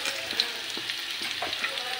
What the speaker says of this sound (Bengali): দেখো আলু ভাজা হয়ে গেছে,